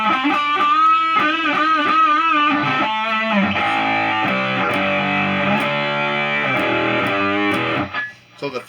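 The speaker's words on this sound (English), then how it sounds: "So the phase actually makes it a lot brighter in distortion mode for this guitar." A 1982 Cort Effector guitar in distortion mode with the phaser on plays loud, bright distorted notes and sweeping chords that stop abruptly near the end.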